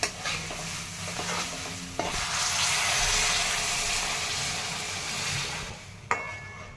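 Cooked kidney beans tipped into a pan of fried tomato-onion masala, producing a loud wet stirring and sizzling rush that swells after a sharp drop-in and carries on for several seconds, then ends with a clatter, with no voices.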